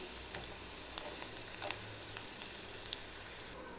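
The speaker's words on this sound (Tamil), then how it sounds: "வாங்க இப்போ இதை நம்ம ஆயிலில் ஃப்ரை பண்ணி எடுத்துக்கலாம்" Onion vadagam frying in hot oil, a dense, even crackle and hiss held close throughout, with a few brighter pops and a light scrape now and then.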